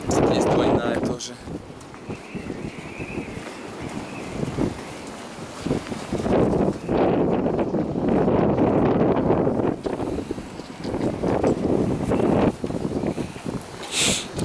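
Gusty wind buffets the microphone at a harbor marina beside a moored Hunter 466 sailboat, rising and falling in loud rumbling bursts with rustling between gusts.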